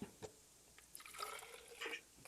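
Club soda is poured into a bullet blender, giving faint, close splashing and fizzy trickling in short uneven bursts.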